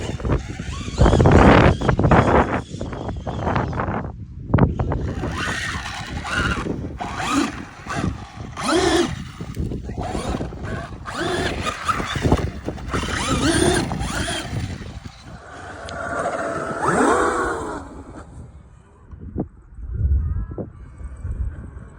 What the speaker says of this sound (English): I can insert some clips of that thing ripping up and down the beach